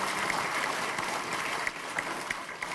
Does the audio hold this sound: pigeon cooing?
no